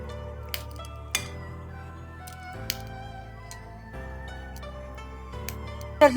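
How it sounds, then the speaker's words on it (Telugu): Bun dosa cooked on both sides is lifted off the pan onto a serving plate, with a few sharp clinks and taps of metal and dishware over a quiet, steady background hum. "ఇలా రెండు వైపులా కాల్చుకున్న దోశని మనం సర్వింగ్ ప్లేట్లోకి ఈ విధంగా తీసుకోవాలి"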